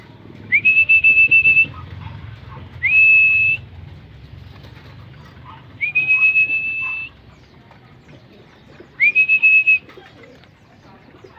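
Pigeons in a loft give four loud, rising whistled calls in separate bursts, each about a second long, over a low rumbling background with no talk.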